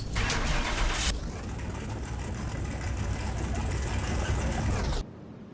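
A customized car with wider tires fires up in a video game: a loud cranking burst gives way to a steady, close engine rumble that cuts off abruptly near the end.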